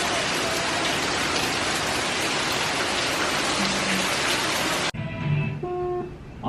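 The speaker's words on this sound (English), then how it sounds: "But just heavy, heavy rain." Heavy rain from Hurricane Delta in Louisiana pours down as a loud, dense, continuous hiss for about five seconds before cutting off abruptly, leaving quieter ambient sound with faint tonal noises.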